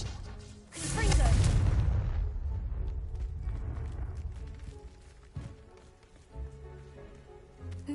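A Confringo blasting spell cast in Hogwarts Legacy: one loud, deep explosion bursts near the start and then rumbles and fades over several seconds, followed by quieter scattered in-game sounds.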